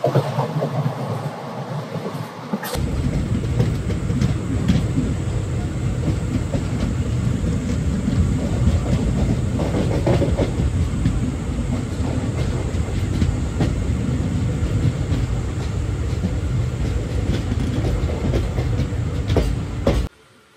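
13417 Digha Malda Town Express running at night, heard from on board: a loud, steady rumble with rhythmic wheel clatter that carries on without break until the end, with no talking.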